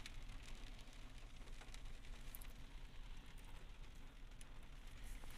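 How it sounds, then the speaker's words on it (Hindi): Soft, continuous patter of rain drumming on a car's roof and windows during a stormy, windy road trip in Saudi Arabia, with a low engine rumble underneath and no talking. "बारिश पड़ रही है"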